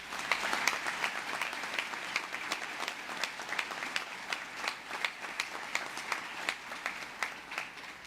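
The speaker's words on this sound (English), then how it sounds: "Let's give him a special round of applause" Applause at a New York State Police Academy graduation, a steady crowd clapping with distinct, fairly regular claps that stand out from the body of the audience, holding even throughout without voices.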